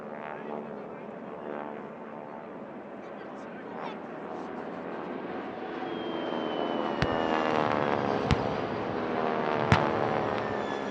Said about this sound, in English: Taking pride of place among the invading formation is a replica Mitsubishi A6M,